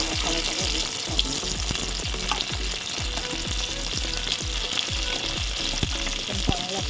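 Ground masala for a mutton gravy fries in a pan, giving a steady close sizzle broken by regular rhythmic scrapes and knocks of stirring, with no talk.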